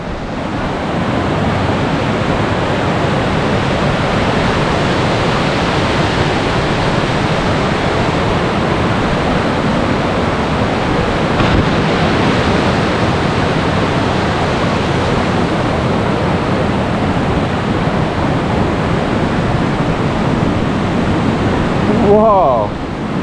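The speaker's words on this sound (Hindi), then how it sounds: "बड़ी स्पीड से पानी आ रहा है यहाँ पे।" Water rushing fast and hard like a waterfall in the old town of Strasbourg, a loud continuous roaring wash that stays steady and close throughout.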